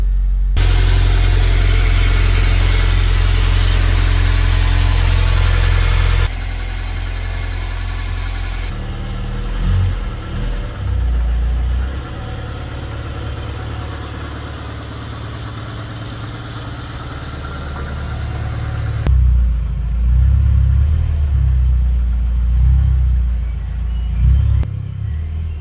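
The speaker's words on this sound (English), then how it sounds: "It's not a healthy engine at all. Pretty sure the head gasket's gone." An unhealthy Nissan Primera P10 engine with a blown head gasket runs loud and close, idling roughly with uneven revs, shifting tone partway through, then pulling and rising again toward the end.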